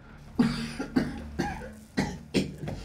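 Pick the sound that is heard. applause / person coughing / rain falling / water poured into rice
person coughing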